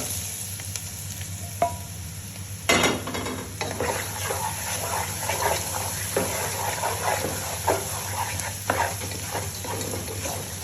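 Chopped vegetables and cashews fry in ghee for upma, giving a steady close sizzle broken by sharp scraping and clinking as a spoon stirs against the pan throughout.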